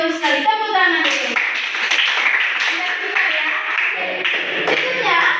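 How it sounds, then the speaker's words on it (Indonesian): Classroom hand clapping, a scattered burst of claps from several people mixed with lively children's voices and chatter over about five seconds, close and fairly loud. "Tepuk tangan itu."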